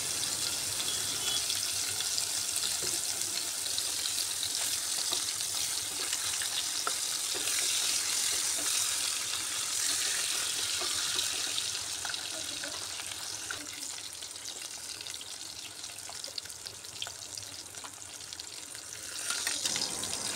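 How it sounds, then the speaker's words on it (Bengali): Eggs and potatoes frying together in oil for egg pulao, a steady bright sizzle held at moderate level with faint stirring, no talk. "ডিম আর আলু একসাথেই আমি ভেজে নিচ্ছি।"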